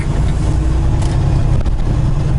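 A big truck's engine rumbles loud and close as it drives on the highway, a steady low drone with a brief shift in tone partway through.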